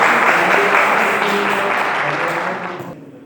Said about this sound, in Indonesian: Beri tepuk tangan untuk siapa?